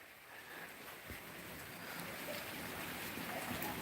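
Steady rain falls over a village as a soft, continuous broadband hiss, faint and even with no break, slowly swelling slightly in intensity.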